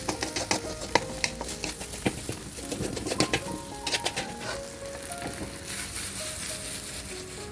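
Fried rice stirred and tossed in a pan by a 13-year-old boy, rapid metallic scrapes and clanks over a continuous sizzle, close and fairly loud, with no talking.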